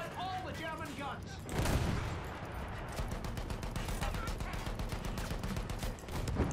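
Battlefield 1 combat rolls on with dense, rapid rifle and machine-gun fire and a heavy field-gun boom, continuous and close, with a voice briefly heard at the start.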